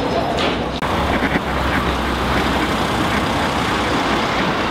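A car drives up and arrives, a steady road engine rumble with a brief dip near the start, moderately loud and close, with no voices over it.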